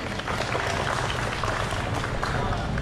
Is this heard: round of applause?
yes